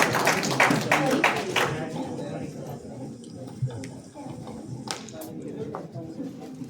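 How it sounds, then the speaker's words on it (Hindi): An audience at a Hindi literature panel session on disability breaks into applause to welcome the panel, a dense burst of clapping that thins out and fades, while a voice speaks over it. "तालियों से स्वागत कीजिए इस पैनल का।"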